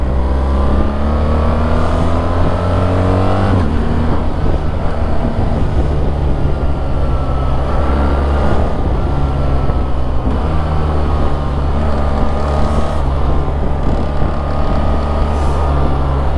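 BMW GS1300R motorcycle engine braking on a ride: a loud, continuous engine drone with shifting pitch and heavy wind rush, close and steady throughout.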